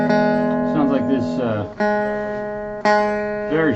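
A Stratocaster-shaped electric guitar with bad intonation plays sharp. Sustained chords ring out with wavering bends, and fresh strums come in twice, all played alone and fairly loud.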